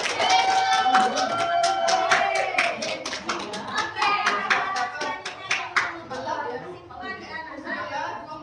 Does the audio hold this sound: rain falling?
no